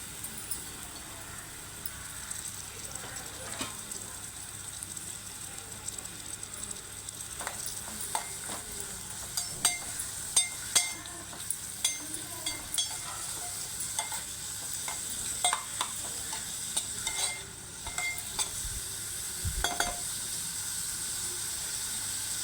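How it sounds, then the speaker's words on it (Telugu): Onion pieces fry in hot oil, a constant quiet sizzling hiss broken by intermittent stirring scrapes and small clinks of a spatula against the pan, with no one talking. "ఆయిల్ ఇటెక్కిందండి ఆనియన్స్ ముక్కలు వేసేసుకుందాం"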